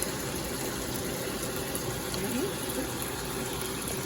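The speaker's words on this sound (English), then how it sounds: "This is the Cola Vita white wine vinegar. We're only going to add half." White wine vinegar, Cola Vita brand, poured from a small bottle into a cooking dish, giving a steady, close liquid trickle over a faint background hum, with no talking.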